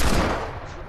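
Loud gunshots from a Fortnite match crack out in a quick cluster, close and dominant, filling the short moment without any talk.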